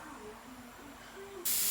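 An airbrush is backwashed with a fingertip over the nozzle, forcing air back so the paint bubbles in the cup: a steady close hiss that suddenly jumps to a loud, rushing burst at the end.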